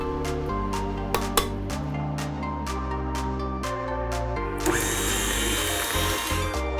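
Electric hand mixer creaming butter, sugar and eggs for spiced banana bread, a steady motorized whir with beater clatter against the bowl, close and continuous, growing harsher near the end.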